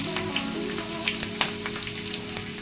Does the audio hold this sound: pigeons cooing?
no